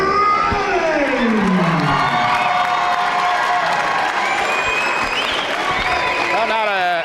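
Crowd of fans cheering and shouting at a Kansas high school girls basketball game, with children's voices, whoops and scattered clapping mixing into a steady, fairly loud din throughout.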